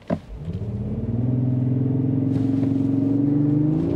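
Lexus GX 550 Luxury+ SUV launching hard at sea level, its engine note rising steadily and loud from a standstill, with synthetic engine sound piped through the cabin speakers, alone without talk.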